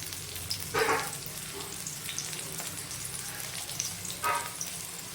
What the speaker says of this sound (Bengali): এরপরে আমি রসুন দিচ্ছি।